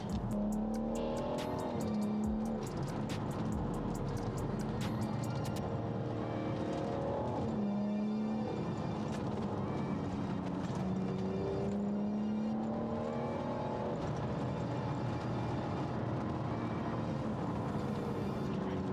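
A tuned Stage 2 BMW 640d diesel of about 400 bhp accelerates hard, its engine note climbing through several gear changes with tyre noise and whir, loud and continuous from start to finish.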